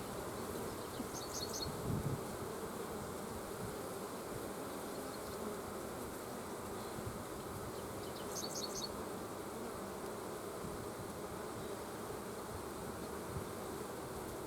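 Honeybees buzz around an opened hive holding old comb, a constant dense drone that fills the whole stretch with a few brief higher whines passing close by, and no voices.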